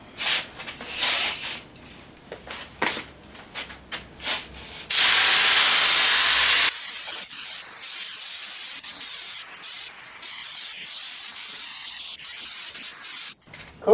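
Paint is sprayed onto a car for a second coat: faint hissy bursts and clatter give way to a loud continuous spray-gun hiss, followed by a steadier, quieter spraying hiss that runs to the end.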